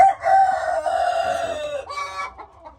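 A rooster on a small poultry farm crows once, loud and close, with a drawn-out call that breaks into a short second phrase.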